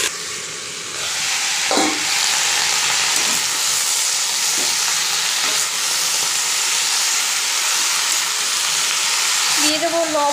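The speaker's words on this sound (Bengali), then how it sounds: "এখন দিয়ে দেবো শাক" Saag greens hit hot oil in a pan after fried potatoes and set off a loud, continuous hissing sizzle close up, with a few stirring knocks and a brief voice near the end.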